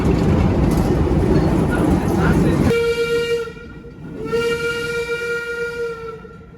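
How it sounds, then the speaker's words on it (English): Loud rumbling noise gives way to a sustained ride dispatch whistle at a roller coaster, which breaks briefly and sounds again, strong and nearby. "Once again, please wait for the whistle."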